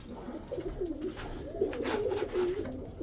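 Several Kazan pigeons coo in low, overlapping rolling calls, close by and continuous, with no talking.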